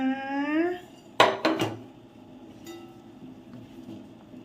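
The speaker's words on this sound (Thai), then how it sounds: "เดี๋ยวเรามา ตักลงชามกันนะคะ" Braised pork belly and eggs are ladled from the pot into a bowl. After a brief spoken phrase, a few sharp, close clinks of the ladle against the pot and bowl ring out, followed by a faint later tap.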